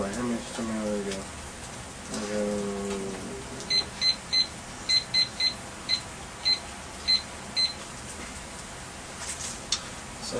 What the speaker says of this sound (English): So essentially, I'm going to let the timer go.